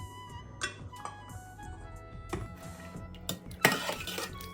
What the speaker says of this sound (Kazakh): Банкалардын бәріне құйып шығып, бетіне қақпағын жауып қоямыз.